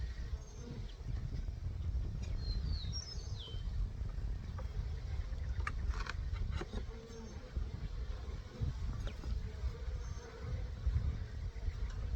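Bees buzzing around a newly populated hive with fondant set inside, a soft continuous hum with faint passing insect whines, steady and moderately close.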